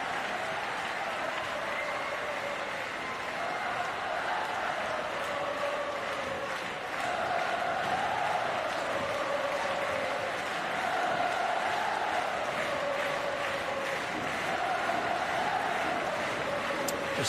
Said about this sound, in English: It's not too often you have a home crowd of thousands cheering you on.